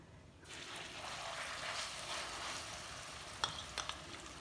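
Garlic and ginger frying in oil over a medium flame, a steady close sizzle that starts after a brief quiet moment and keeps going with a few sharper spatters and stirring clicks near the end.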